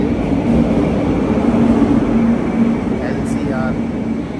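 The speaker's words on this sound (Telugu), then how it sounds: "మన ట్రైన్ అయితే వచ్చేస్తుంది" A Laos high-speed train on the Vang Vieng to Luang Prabang line pulls into a station with a loud, steady low rumble and hum. A few faint tonal whines rise near the end, and voices can be heard around the platform.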